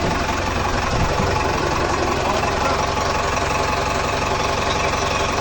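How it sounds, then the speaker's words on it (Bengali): A large Tata engine powers a river crossing boat, running with a steady, loud, dense throb and rumble that holds throughout without a break. "টাটা কোম্পানির ইঞ্জিন"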